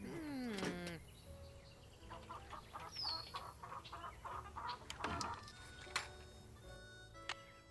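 Chickens cluck and a rooster-like call rises at the start inside the Nancy Drew: The Secret of Shadow Ranch video game, with scattered bird calls, sharp ticks and low ambient farm noise, fairly quiet throughout.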